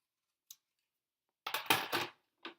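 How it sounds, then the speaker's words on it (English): Scissors cutting black cardstock for a Halloween test tube treat box; a faint click, then a close burst of crisp snipping strokes lasting about half a second, and one more short snip, with quiet between. "You just take your black, you take your scissors,"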